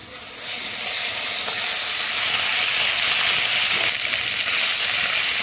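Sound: ginger added to frying onion and garlic, sizzling

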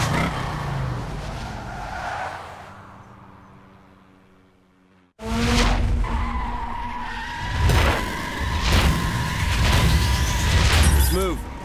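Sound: Dodge Challenger race car skidding on snow in The Crew video game

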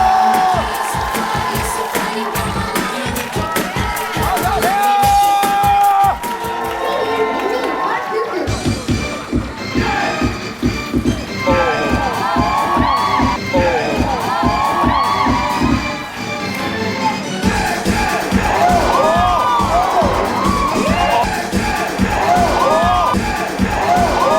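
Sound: studio audience applauding and cheering

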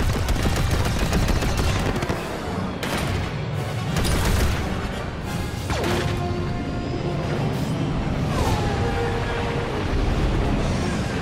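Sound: blaster fire in the video game Star Wars Battlefront II

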